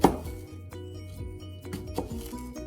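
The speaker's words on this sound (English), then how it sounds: "the way you want to cut up an onion or a shallot is you want to cut it in 2 different directions" A kitchen knife cuts an onion or shallot on a cutting board, making a few soft, close taps and slicing knocks at an unhurried pace over a low background hum.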